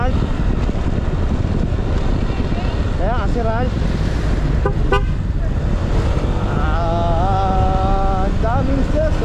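Busy road traffic on a provincial highway entering Nueva Ecija, Philippines, with loud continuous engine and road noise, several horn toots at moments, and a longer sustained horn blast near the end.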